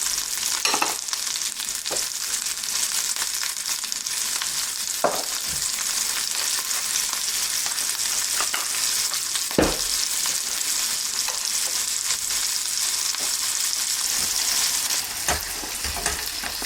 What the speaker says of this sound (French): les snacker dans un peu d'huile, un peu de noix de beurre, un peu d'huile, et hop, jusqu'à marquer